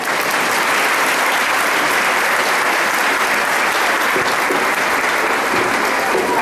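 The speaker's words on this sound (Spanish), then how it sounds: "Un aplauso para todas las mamás." Loud, sustained applause from a crowd at a school Mother's Day festival, a dense wall of clapping that holds evenly throughout without any break.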